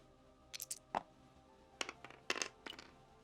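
Three dice rolled during a tabletop game make quiet clattering clicks in several small bursts, each tumbling briefly and settling against a hushed room background.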